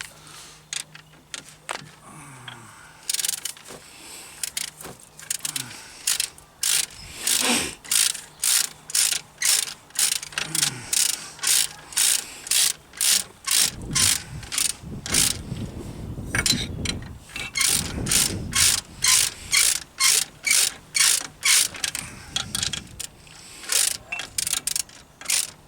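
A 19mm brake caliper bolt being tightened on a Jaguar X-Type front brake, rapid close ratchet clicks in repeated bursts with brief pauses, mechanical clanks between, no talk.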